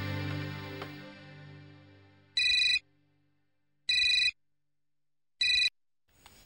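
A telephone rings in a family home during a Hindi television serial, sounding as three short, evenly spaced electronic bursts that follow a fading low tone, with no talking over them.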